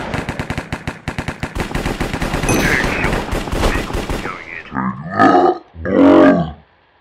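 Rapid pistol gunshots in a Minecraft Sky Wars duel, a fast run of sharp cracks over the first four seconds, followed by a couple of louder, longer bursts of in-game noise near the end.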